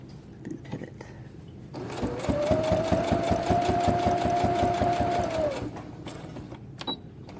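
A sewing machine top stitches a fabric face mask in one sustained run of fast, even mechanical pulses lasting a few seconds, with a whining motor tone over the stitching and quiet handling sounds before and after.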